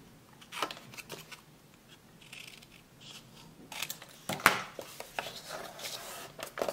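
Scissors snip paper scraps at a slant for a small mini album, giving a run of soft, close crisp cuts and rustling paper handling, building toward a sharper snip near the end.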